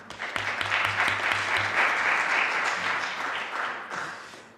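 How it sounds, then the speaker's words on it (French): Sustained audience applause at a conference on mental health and ageing, filling several seconds at moderate distance, holding steady before tapering off toward the end. "on peut l'applaudir aussi"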